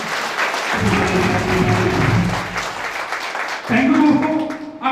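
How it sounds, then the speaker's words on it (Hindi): Audience applause at an achievers' celebration event in a hall: sustained loud clapping from a crowd, swelling again near the end, with a voice speaking over it. "एक जोरदार शानदार तालियां इन लोगों के लिए।"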